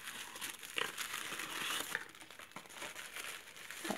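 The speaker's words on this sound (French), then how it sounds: "Il a envoyé un papier crépon." Close, soft crinkling and rustling of thin crepe paper being handled while unboxing a beauty box, in irregular bursts with small crackles, fairly quiet.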